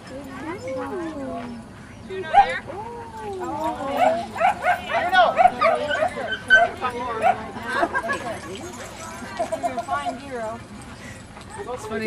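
A dog barks, yips and whimpers in a series of short, close, excited calls, with a few faint clopping sounds and people talking over it.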